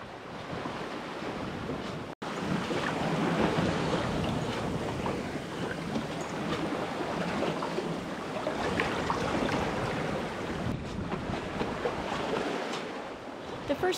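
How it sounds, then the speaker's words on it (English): Sea waves wash steadily around a sailboat crossing toward Cuba and the Gulf Stream, with a continuous broadband roar of surf and wind buffeting the microphone throughout, close and loud, with no talking. "The waves have been quite generous, giving us lake-style calmness as we wobble toward Cuba"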